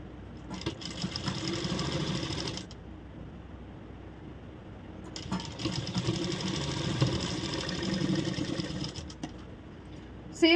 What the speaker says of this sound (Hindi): यहाँ से हमारी स्लीव की जो स्टिचिंग है शुरू कर देंगे सिलाई करना